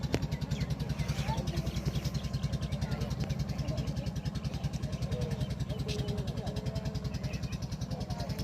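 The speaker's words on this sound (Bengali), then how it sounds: "ওদিকে একটা ছোটো ভটভটি নৌকা চলেছে।" Small motorized country boat (bhotbhoti) chugging on a river near the Sundarbans, a steady rapid mechanical putter running continuously at moderate distance, faint and unbroken.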